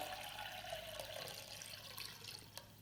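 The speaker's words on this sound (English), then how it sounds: "using fresh water pre-mixed with flower food, fill the vessel" Water steadily pouring into a flower vase, mixed with flower food, a faint continuous splashing and trickling fill with no talk.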